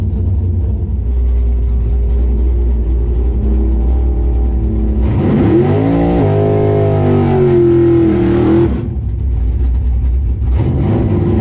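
Car engine at a bracket drag race: a loud, close, steady low drone, then a strong rev that sweeps up and settles into a sustained high whine for several seconds before dropping back to the idle rumble.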